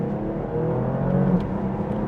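A 2025 Porsche Panamera's engine pulls steadily at half throttle under boost, a loud sustained rising drone heard from inside the car, no talking.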